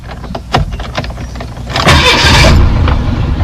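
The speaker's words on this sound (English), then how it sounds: "and we'll get this car to start." Old car hot-wired with a shove and some key fiddling, giving a few clicks and short cranking bursts before the engine catches and runs loudly and steadily nearby.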